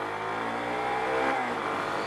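A Lamborghini sports car sweeps past with a continuous revving engine tone. The pitch rises and falls as it passes close by, loud and steady throughout, with no voices.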